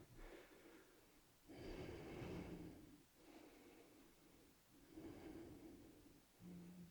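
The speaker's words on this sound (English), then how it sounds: "Do you have a dog that snores with you when you practice?" Slow, soft snoring breaths from a dog, four or five rhythmic snorts with quiet pauses between, fairly faint and close.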